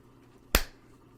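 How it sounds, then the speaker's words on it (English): A single sharp hand clap, close and crisp against a quiet room, ringing out once and fading quickly. "I'm going to clap again."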